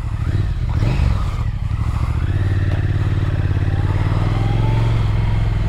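A Triumph Speed Twin 1200 motorcycle being ridden, its engine a loud, steady throaty drone close to the rider, with a brief dip and a clunk as a gear change goes through, then the pitch settling and climbing again.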